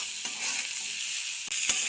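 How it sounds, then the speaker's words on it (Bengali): Carrots and cauliflower fry in a pan with salt and turmeric, giving a steady bright sizzle, with a couple of brief scraping stirs near the end. "লবণ হলুদ দিয়ে গাজর ফুলকপি খুব ভালোভাবে ভেজে নিলাম"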